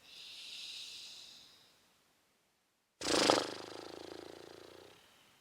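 In a breathing exercise class, a person inhales softly and steadily through the nose, pauses briefly, then blows out hard through loose lips in a loud, sputtering, fluttering exhale that fades slowly. The person is imitating a horse's snort.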